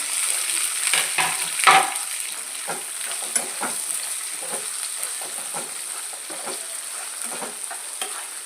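Sliced onions sizzle steadily in a hot oil pan, with a continuous hiss and soft scraping stirs while cooking a raw banana stir-fry; nobody speaks.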